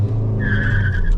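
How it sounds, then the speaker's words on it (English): A manual 2020 Nissan Versa S with a 1.6-litre engine spinning its tires under hard acceleration, a sharp sustained squeal rising over a loud engine drone for about a second. "You'd think a car of this size would have the capacity to spin its tires so much"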